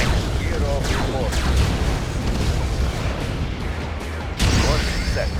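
Naval battle in the strategy game Red Alert, with ship guns firing and torpedoes exploding: a dense, continuous roar of booms and blasts, with a sharp new burst near the end, under game voice callouts.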